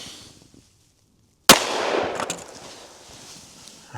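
A single sharp, loud report rings out as a Buffalo Bore 180-grain 10mm round is fired from a 4-inch pistol at a range target, followed by a decaying outdoor echo after a moment of near silence.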